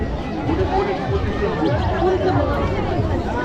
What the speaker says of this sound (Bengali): প্রচণ্ড পরিমাণে ভিড় হয়ে গেছে এই দিকে